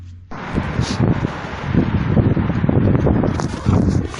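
Wind gusts buffet a microphone outdoors on a cold walk in Beijing, a steady low rumble that swells louder midway and holds, with no talk.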